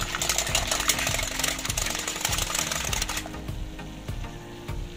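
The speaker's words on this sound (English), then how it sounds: "So whisk your eggs until they are foamy" Eggs are whisked until foamy for fluffy Indomie noodles, giving a steady, rapid rhythmic clatter of the whisk against the bowl that carries on without a break, close and fairly loud.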